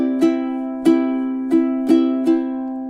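Ukulele strummed in a syncopated down-up pattern with a skipped stroke, playing a chord melody; five bright ringing strums at an even, lilting pace, close and clear with no talking.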